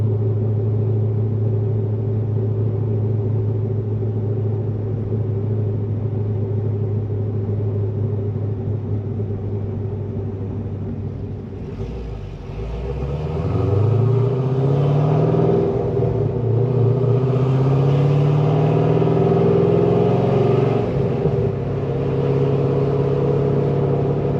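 Low, steady exhaust drone from a cammed, catless Corvette Z06 cruising at about 35 mph and 1500 RPM, heard from inside the car as a constant rumble with a rising engine swell midway, no talking.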